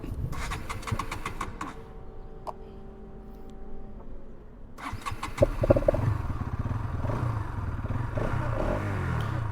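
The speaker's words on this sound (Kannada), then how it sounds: "ಈಗ ಗಾಡಿ ಸ್ಟಾರ್ಟ್ ಆಗಿದೆ" A Bajaj Pulsar NS200 BS7 motorcycle engine starts after a failed attempt, catching with a loud close rumble that settles into a steady idle, with no talking.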